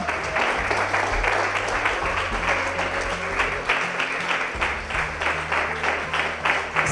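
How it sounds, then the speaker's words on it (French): Sustained audience applause for the winning team at the final of a regional creative design competition, a steady wash of many hands clapping with a low hum underneath and a few voices mixed in. "je vous demande de les applaudir bien fort"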